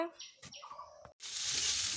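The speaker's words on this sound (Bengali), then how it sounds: "আমার বোন হচ্ছে ভাত ভাজা করছে" Brief bird chirps and soft clatter give way to a loud, dense sizzle as rice is fried and stirred in a pan, continuing steadily to the end.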